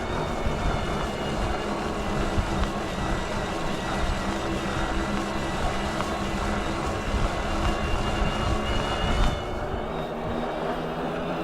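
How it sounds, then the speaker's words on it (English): Electric hub motor of a Tern Orox S12 cargo e-bike under way, a steady continuous whir blended with wind and rolling noise, easing slightly near the end. "Let you listen to the motor through this section."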